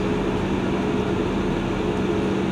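Steady onboard rumble of a lightly occupied Salisbury to Gillingham shuttle train running between stops, a continuous low drone with a faint hum, fairly loud and unchanging throughout.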